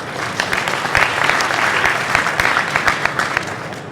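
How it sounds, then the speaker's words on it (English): Audience applause fills a startup competition hall at a real-estate expo, a steady dense clatter of many hands clapping, fairly close and loud throughout with no talk over it. "So a big round of applause to Joe."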